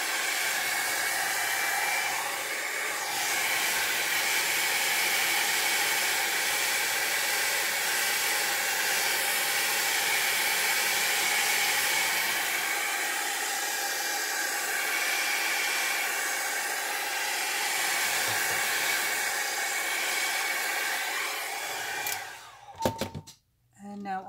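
Dryer blowing steadily over an airbrushed alcohol ink flower, a loud, even rushing hiss held for about twenty seconds before cutting off with a few clunks.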